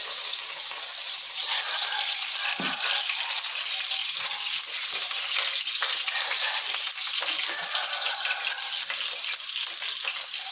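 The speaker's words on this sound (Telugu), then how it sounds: "నేను ప్యాన్ ఇట్ ఎక్కింది కదా, కొంచెం ఘీ వేసుకుంటున్నాను" Ghee sizzles steadily in a hot pan on a stove, a close, continuous bright hiss with faint crackles and no voices.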